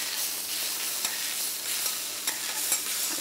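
Japanese teriyaki chicken frying in a hot pan, a steady close sizzle with occasional sharp pops and stirring scrapes, heard alone without talk.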